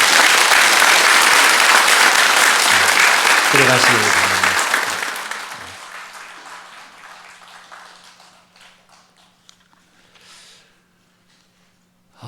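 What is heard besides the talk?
congregation applauding to welcome newly baptized members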